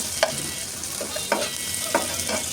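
Onions fry in oil with a steady close sizzle, punctuated by three or four evenly spaced scraping strokes of stirring.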